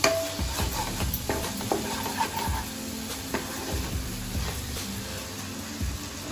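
Masala sautés in oil for a vegetable kurma, a continuous soft sizzle with frequent scraping and stirring taps from a spoon against the pan.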